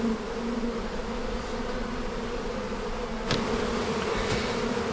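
Honey bees hum steadily at the new entrance of a horizontal hive, a dense, even buzz from many insects close by, with a couple of brief louder passes of single bees.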